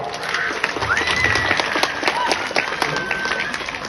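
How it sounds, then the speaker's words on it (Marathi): Crowd applause at a political gathering is a dense, steady patter of many hands clapping throughout, with a few voices and brief whistles rising above it. "तुम्हाला सगळ्याला आनंद असेल तर टाळ्या वाजून टाका"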